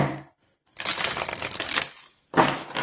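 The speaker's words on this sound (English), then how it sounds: "So now we're going to do some shuffling. Let's see how these shuffle, shall we?" A deck of oracle cards is shuffled by hand in a couple of bursts of crisp riffling and flapping, separated by brief pauses, close and fairly quiet with no talking.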